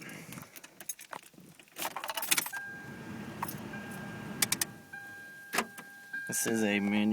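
Keys jangle in the ignition of a manual Toyota MR2 Spyder with an aftermarket Clifford alarm, followed by a chime and the engine turning over at the end, as someone speaks briefly.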